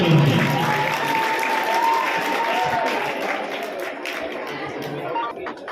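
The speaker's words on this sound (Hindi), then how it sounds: "जोरदार ताली" Loud applause from an audience at a girls' school felicitation ceremony, a dense steady clatter of clapping with crowd chatter mixed in that tapers slightly near the end.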